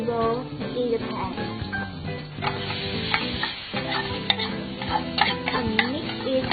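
Pad Thai ingredients are stirred and tossed in a hot pan, with soft scraping and clinking against a steady low sizzle, while background music plays and a voice is faintly present.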